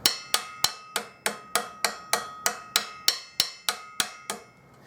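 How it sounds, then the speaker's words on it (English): A canvas mallet taps down the sharp metal edge of a herald trumpet bell over a small mandrel during dent-removal restoration: about thirteen crisp, evenly spaced knocks, close and clear with nothing else heard. "Now I'm going to tap down some of the metal at the end so it's not so sharp. I'm going to use a canvas mallet to do that."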